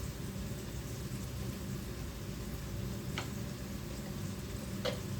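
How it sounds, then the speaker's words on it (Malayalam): Onions sauté in a pan for the whole stretch with a steady, soft sizzle. There are a couple of faint clicks and no voices. "ഉള്ളി ഒന്ന് വഴണ്ട് വരട്ടെ"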